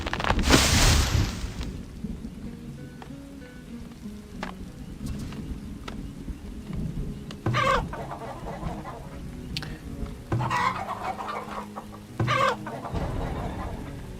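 Chickens cluck around a coop in the frontier settlement-building game Farthest Frontier, with a few short bursts of clucking over a steady low game ambience and no voice.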